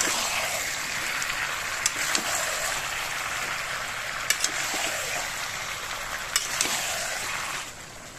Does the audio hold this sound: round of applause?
no